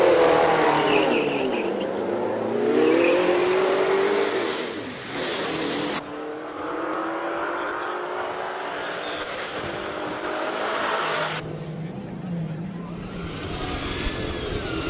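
A V8 rear-wheel-drive race car with a lightweight composite body roars away from the start line at a Cape Town hillclimb speed event. The engine revs and rises through the gears, and crowd and track noise fill the background.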